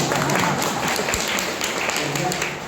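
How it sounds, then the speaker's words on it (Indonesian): A seminar audience at a foundation's anniversary public speaking event gives a sustained, dense round of applause, a steady hiss of many hands clapping at moderate distance with murmuring voices blended underneath. "Tepuk tangan untuk kita."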